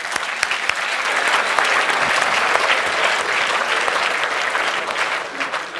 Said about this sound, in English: So good questions deserve clap.